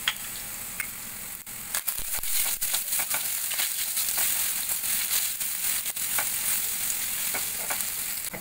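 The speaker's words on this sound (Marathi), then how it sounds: "जिरे आपले तडतडले की त्याच्यामध्ये आपण हा ठेचलेला लसूण घालून घेणार आहोत." Crushed garlic and cumin seeds fry in hot oil for spinach, a steady, close, dense sizzle with crackling pops and scraping stir strokes throughout.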